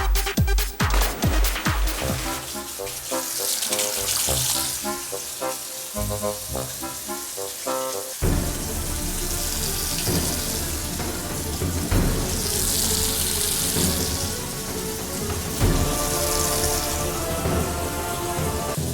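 Water runs from a tap in a steady, loud rush that fills most of the stretch, after a short burst of music and clattering at the start.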